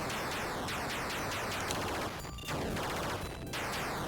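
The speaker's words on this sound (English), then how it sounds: "Just using the smart bombs." Smart bombs detonating in a Williams arcade shooter on the Mega Drive, a dense run of loud, crackling blast bursts and sweeping zaps, briefly dropping out twice before the barrage resumes, with no talking.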